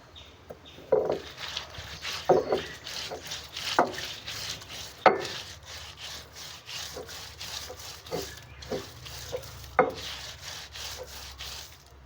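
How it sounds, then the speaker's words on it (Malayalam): Rice ground by hand on a traditional ammikallu grinding stone in a home kitchen, with steady rasping rubs of stone on stone broken by sharper scraping strokes every second or so, close and alone. "ആദ്യം തന്നെ കുറച്ച് അരി ഇട്ട് കൊടുത്തു അത് നമുക്കൊന്ന് അരച്ചെടുക്കാം"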